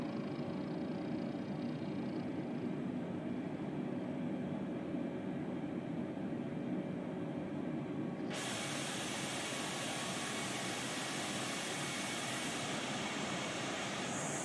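Airbus A320 in Microsoft Flight Simulator 2020 slowing down: a steady broadband engine and airflow roar runs throughout, turning brighter and hissier partway through as the deceleration changes the sound.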